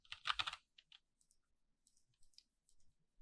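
Quick keystrokes on a computer keyboard, a tight cluster of close, crisp clicks followed by a few scattered lighter taps with quiet gaps between.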